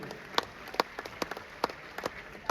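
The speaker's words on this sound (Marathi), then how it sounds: "त्यांच्यासाठी जोरदार जोरदार जोरदार टाळ्या झाल्या पाहिजे" An audience claps at a lively public talk, with scattered individual claps standing out sharply against a soft patter of applause at moderate distance.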